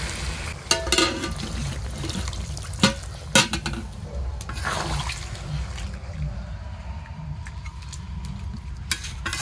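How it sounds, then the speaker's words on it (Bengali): Hot water splashes and pours into braised chicken curry in a pan, with a few clattering knocks of a utensil against the pot and a low liquid rush that fades to a quiet simmer. "এবার আমি পাশে রাখা গরম জল দিয়ে দেবো।"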